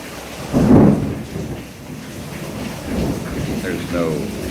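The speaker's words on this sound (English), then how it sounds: "That's the lightning." Thunder in a thunderstorm: a heavy rumble rolls over steady rain, then further low rumbles follow, with a voice heard faintly in the mix.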